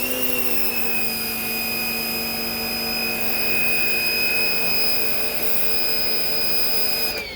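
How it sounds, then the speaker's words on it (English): A pressure washer runs steadily while spraying down cat cages during a deep clean, a loud, continuous motor whine with an even hiss of water that holds throughout and cuts off at the very end. "If you have something that's stuck on, let the pressure washer do the work for you"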